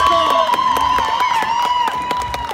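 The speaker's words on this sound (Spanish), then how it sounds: "de acuerdo que pase los hermanos Rodríguez, brinden el aplauso con punto de Jalisco" A crowd at a rodeo tournament in a plaza cheers and whoops loudly and continuously, with shouting voices layered over the roar and sporadic clapping.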